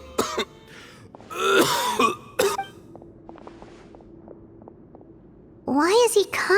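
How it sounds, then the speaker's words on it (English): A video game character in Genshin Impact coughs and clears his throat in a few harsh, raspy bursts close by, separated by quiet gaps, with voices speaking around them. "Why is he coughing so much?"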